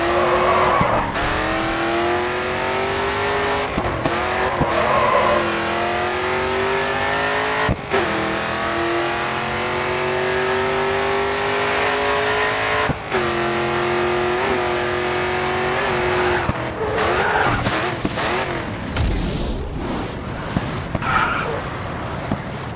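A race car in the video game GRID 2 slides and skids through corners, its engine droning steadily and loudly with shifting pitch while tyres squeal, brief gear-change dips interrupting, ending in a burst of harsher screeching.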